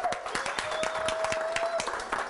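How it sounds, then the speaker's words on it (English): A graduating training class claps for itself in a short burst of dense, steady applause from a small group, close and lively, with a faint voice and a thin tone running underneath. "You should give yourself a round of applause."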